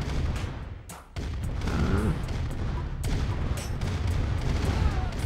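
An explosion crate blows up in the Command & Conquer real-time strategy game, a burst of booming blasts and crackling gunfire-like bangs over a dense, continuous battle din.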